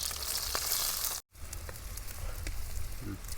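Green chillies and thinly sliced onions fry in hot oil for a mushroom curry, giving a steady close sizzle with a brief silent break partway through, no voices.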